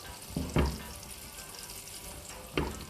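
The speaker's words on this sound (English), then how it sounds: "add the gyozas. On slow to medium heat, I'm going to cook this" Gyozas frying in oil in a pan over low to medium heat give a steady, fairly loud sizzle, with a few clattering knocks near the start and one more near the end, heard close and without talk.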